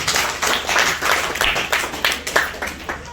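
A seated audience at an income-plan seminar claps in a loose, uneven patter of individual hands, moderately close, with distinct slaps standing out over a small crowd.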